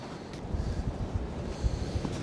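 Wind buffets a microphone at an open, exposed roadside spot on a snowy winter van trip, a steady low rumble with gusty thumps, no voices.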